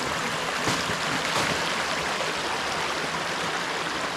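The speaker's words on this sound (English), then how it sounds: "Gotta stop and look at this creek." A creek flowing along a hiking trail in Allegany State Park, heard as a steady, even rush of water that continues unchanged throughout, with no voices.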